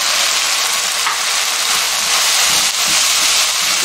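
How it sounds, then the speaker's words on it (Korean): Onions stir-frying in a pan with oyster sauce make a steady, dense sizzle and hiss with faint scraping, constant and close throughout, no talking. "양파가 어느 정도 익을 정도까지 볶아줬으면"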